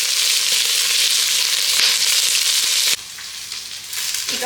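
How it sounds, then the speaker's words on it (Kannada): Onion, garlic and green chillies fry in hot oil with a loud, steady sizzle, which drops in level near the end as the mix is stirred. "ಈಗ ಈರುಳ್ಳಿ, ಬೆಳ್ಳುಳ್ಳಿ, ಹಸಿಮೆಣಸಿನ್ಕಾಯಿನ ಚೆನ್ನಾಗಿ ಹುರ್ಕೊಳ್ಳೋಣ"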